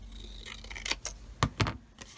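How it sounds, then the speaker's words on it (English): Long shear scissors snip through card-making paper in a few quick, separate cuts, close and crisp against a quiet room, with no voices. "I will just use my long shear scissors while I'm holding that in place."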